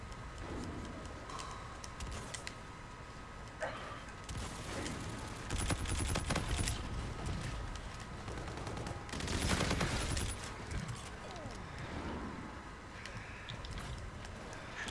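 Gunfire in the Call of Duty: Infinite Warfare video game, with repeated bursts and single shots over a busy, dense background, loud swells around the middle and later.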